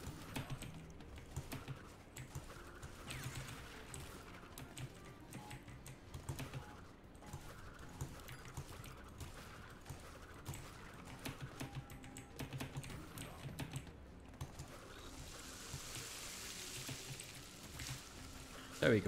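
Computer keyboard keys clatter in fast, irregular bursts while Crash Bandicoot 4 is played on PC, the tapping continuous and close, with a faint voice now and then in the background.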